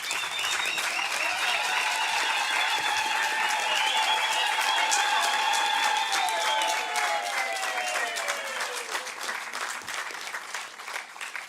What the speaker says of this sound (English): give them a rousing round of applause for having achieved what many thought was impossible